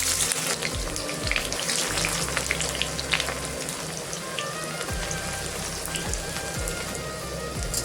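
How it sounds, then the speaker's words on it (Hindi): Onions frying in oil in a kadhai give a steady, dense sizzle and crackle, close and continuous without pause. "दो मिनट में प्याज को फ्राई कर लेंगे।"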